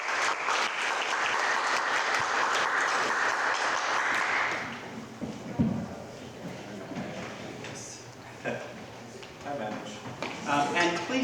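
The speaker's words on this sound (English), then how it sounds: "help me give him a big round of applause" A room of listeners applauds a guest speaker at a poetry presentation, a dense sustained clapping that lasts about four seconds, then fades into scattered murmurs, shuffling and voices talking.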